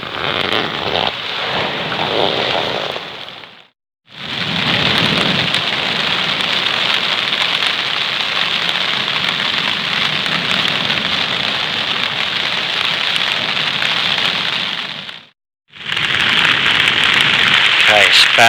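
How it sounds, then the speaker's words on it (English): Heavy rain and strong wind beating on a tent at night, a loud continuous hiss and drumming that drops out briefly twice before resuming. "Rain's getting really heavy. Wind's fairly strong."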